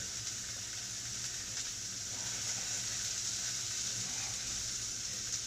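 Beef rouladen sears in a pan with a steady, bright sizzle that holds evenly throughout, close and constant with no voices over it.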